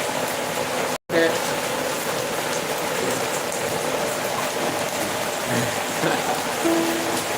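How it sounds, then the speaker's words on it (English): Heavy rain pours outdoors in a loud, steady roar with a brief dropout near the start, recorded at a traditional nyatiti music performance in Kenya, with talking mixed underneath. "because there's a lot of rain."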